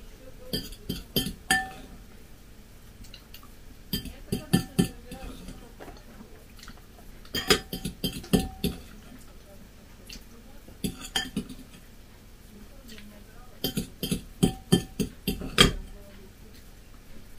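A metal spoon and fork repeatedly clink and scrape against a plate of instant mashed potatoes in quick bursts separated by pauses, close and fairly soft.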